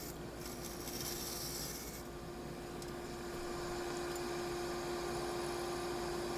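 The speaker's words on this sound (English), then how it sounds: "Using the Carter & Son bowl gouge." A Carter & Son 5/8-inch U-shaped bowl gouge cutting a wooden platter on a lathe turning at about 400 RPM, a steady continuous rasping scrape over a constant motor hum, with no pauses and no talk.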